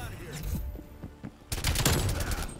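Rapid automatic fire from a DLC gun in Call of Duty Black Ops Cold War, sounding as a few scattered shots and then a dense, loud burst of sustained gunfire in the second half, with speech mixed in.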